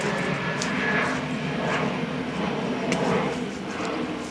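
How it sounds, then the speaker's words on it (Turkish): Airplane passing overhead above a forest, a loud continuous broadband engine roar that swells slightly and holds steady throughout, heard from the ground among the trees. "uçak sesi çok fazla geldiği için pek fazla bir şey anlayamıyorum."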